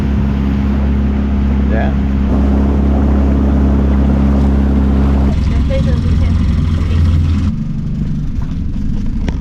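A tour boat's engine rumbles steadily and loud through a boat ride's closing moments, its low drone shifting as the craft slows, with people talking over it and brief speech.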